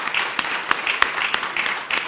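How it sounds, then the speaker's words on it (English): Audience applause at an Essex County Italian heritage month celebration: scattered, moderately close hand claps with distinct individual slaps over a continuous clapping wash, lasting a couple of seconds with no talking. "Let's give him a round of applause."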